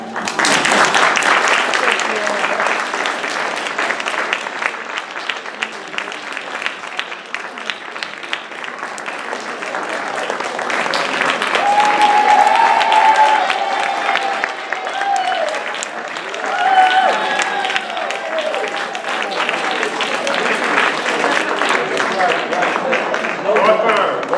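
Audience applause at a wedding, loud sustained clapping filling the room for over twenty seconds, with cheers and voices rising briefly in the middle.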